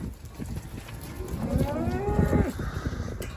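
A single long cow moo rises and falls over a breezy outdoor background during cattle hauling, fairly close.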